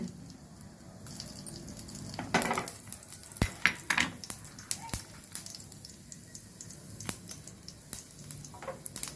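Cumin and dried red chillies frying in two spoons of oil in a pan: a quiet sizzle under repeated sharp clinks and scrapes of a spoon against the pan, close and intermittent.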